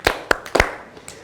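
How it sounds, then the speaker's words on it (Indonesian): A few sharp hand claps ring out in a quick, uneven burst of about four strikes, close and fairly loud, then fade into quiet. "Kalau kau suka hati tepuk tangan."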